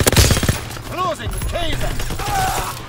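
Shotgun blasts and other gunfire in a video game, a loud burst of shots at the start followed by more scattered fire, with voices under the shooting.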